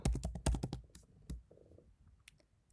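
Quiet typing on a computer keyboard while writing Python code: a quick burst of close key clicks, then a few scattered, softer taps trailing off.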